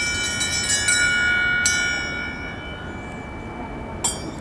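Painted Indian brass bell from the 1950s or 60s rings with bright, sustained metallic tones that slowly fade, struck a few times over a steady background hiss at a swap meet.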